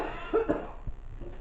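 A person coughs a few times at close range, short rough bursts in a quiet room, with faint murmuring speech afterward.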